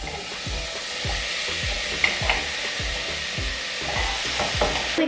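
Tomatoes for chana masala hit a hot pan with a bright, steady sizzle, while a spoon scrapes and stirs in a regular rhythm of low knocks throughout, close and fairly loud.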